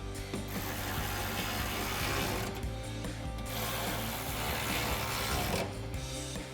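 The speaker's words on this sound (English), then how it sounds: "we'll grab, again, our 13mm socket on our ratchet and tighten these down" A hand ratchet with a 13mm socket tightening the mounting bolts of a bed rack on a 2016-2023 Toyota Tacoma, rapid continuous clicking close up, with brief pauses between strokes.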